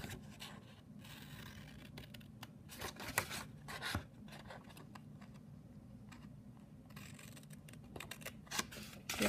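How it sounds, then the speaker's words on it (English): Scissors cutting patterned paper up to score lines, a quick series of crisp snips and rustles, close and fairly quiet, repeated in bursts across the sheet. "I'm just going to cut up to the score line, and you're going to do that all the way across"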